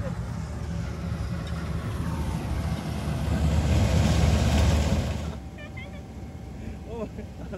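A Sonalika tractor engine runs at a farm during harvest with a combine nearby. The engine rumbles low and steady, swells louder toward the middle, then eases off as voices talk over it.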